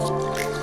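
Coriander, lime juice, salt, pepper and a splash of extra virgin olive oil are stirred together, giving one brief wet squish close up against a steady tonal hum.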